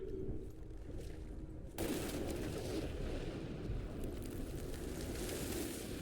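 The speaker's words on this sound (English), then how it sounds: "Now that is how you shape an explosion." An explosion in the video game Evil West begins as a quiet rumble, then hits abruptly after nearly two seconds and turns into a sustained roar of blast and debris that lasts to the end.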